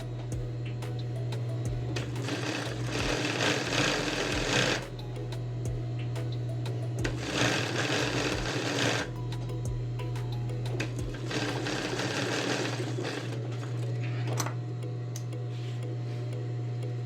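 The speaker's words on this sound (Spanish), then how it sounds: "Voy a pasar una costura ancha para fijar esa vista" A sewing machine sews a wide seam to fix the facing on the collar stand of a women's shirt. Several loud stitching runs rise and fall over a constant low motor hum, and brief ticks sound between them.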